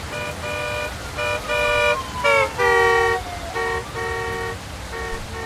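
A car horn in the video game Route 8 honks repeatedly in short and longer blasts with an uneven, impatient rhythm, loud and close, with a voice talking faintly underneath.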